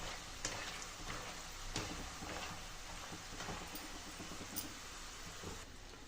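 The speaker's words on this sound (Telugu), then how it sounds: "ఇలా కలుపుకుంటూ డీప్ ఫ్రై చేసుకోవాలండి" Peanut pakoda deep frying in hot oil, a steady dense sizzle and crackle throughout with occasional small pops and stirring clinks, fairly faint and alone without talk.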